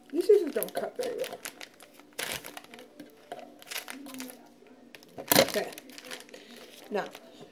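Scissors cut a plastic cheese bag: crinkling plastic with a few sharp snips and rustles, uneven bursts of handling noise close by, some louder crunches standing out.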